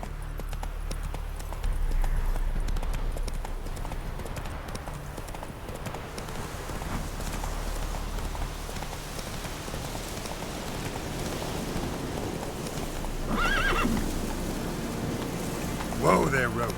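A horse in The Witcher 3 video game gallops with a rapid, even clip-clop of hooves over a rain-like hiss. A brief voice cuts in near the end.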